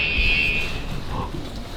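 An electronic alarm at a secret base sounds a loud, steady high-pitched tone for under a second, then cuts off, leaving a noisy background.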